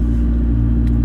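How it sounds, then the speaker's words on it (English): A McLaren 650S engine starting up, heard as a loud, close, steady rumble that holds throughout the short moment without any voices. "the loud start sequence in the McLaren 650S"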